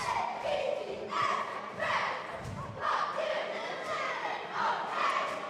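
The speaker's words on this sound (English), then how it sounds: "That is the Atlanta cheer team" A cheer team in a high school gym during a varsity girls basketball game chants and yells in rhythmic bursts, steady and mid-distance, with crowd noise and thumps running underneath throughout.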